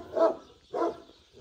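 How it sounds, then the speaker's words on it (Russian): Two dogs playing together, with two loud, close barks about half a second apart followed by a softer trailing yip, and quiet in between. "Никакая собака так с Ханом не играла"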